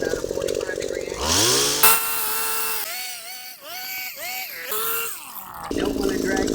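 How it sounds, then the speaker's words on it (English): Hedge trimmer cutting along the bottom edge of boxwood shrubs, its motor revving up and down in uneven bursts with pitch rising and falling, close and loud, with a voice speaking intermittently over it. "put my trimmer under the edge about a 45-degree angle"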